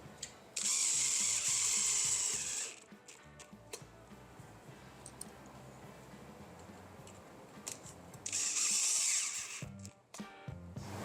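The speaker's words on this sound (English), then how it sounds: "let's put some screws to hold this jig in place." A power drill drives screws to fix a woodworking pocket hole jig in place, giving two loud, whirring bursts of a few seconds each with quieter clicks and handling noises between them.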